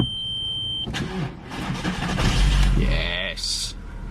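A scrap VW Golf cranks and catches, its engine starting and running with a low rumble, while a person talks nearby and a brief electronic tone sounds at the start and end.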